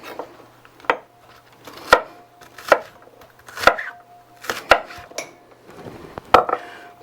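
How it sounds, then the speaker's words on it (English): Knife chopping green onion whites on a cutting board, about eight sharp, close knocks at a slow, fairly even pace, alone without talk. "Alright, now the whites, we'll cut these up a little smaller."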